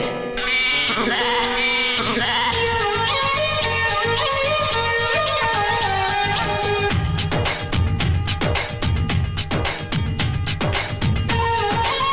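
Bleating like a goat's in a Hindi-dubbed South Indian action film comedy scene, repeated loud calls layered over a dense, continuous musical backing throughout.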